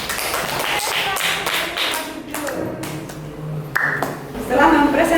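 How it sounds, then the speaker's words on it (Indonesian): A high school classroom gives scattered applause for a student group after its presentation, with claps and taps mixed among talking voices. "Kita beri aplaus untuk kelompok 4"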